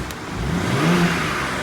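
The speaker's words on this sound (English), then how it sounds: "Let me get some exhaust tones from the back" A 2023 BMW M3 revs from behind its exhaust, a steady mid-pitched engine drone that swells slightly and then holds, alone and fairly close.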